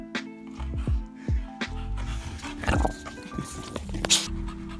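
A dog whimpers and yelps in a string of short, high, falling cries, fairly close, with some scattered background noise and no talk.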